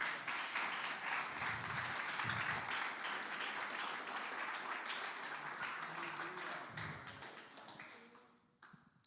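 A church congregation applauding during a sermon, dense sustained clapping with voices and cheers mixed in, fading into scattered claps toward the end.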